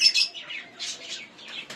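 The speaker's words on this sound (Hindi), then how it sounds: "ये हमारी कबूतरी है जो इस वक्त अंडों पर बैठी हुई है" A caged pigeon sitting on her eggs gives soft, repeated chirping calls, faint and close, in short bursts with brief pauses between them.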